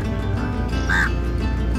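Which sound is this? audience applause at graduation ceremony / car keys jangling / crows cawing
crows cawing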